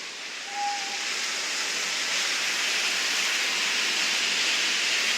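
Food frying in a pan on a home stove gives a steady, loud, broadband sizzling hiss that runs unbroken from start to finish, with no voices over it.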